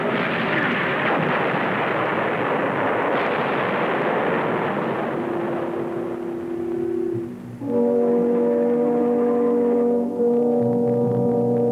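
WWII archive footage of mortar fire, 81 mm and 60 mm mortars pounding enemy positions, heard as a dense, continuous roar of blasts that gives way to a droning, horn-like tone, loud and sustained with no voices.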